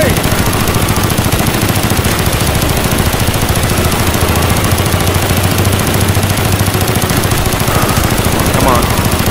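Unbroken, loud machine gun fire in Call of Duty: Black Ops rattles on steadily without pause, dense and close, with a voice speaking over the stream of shots.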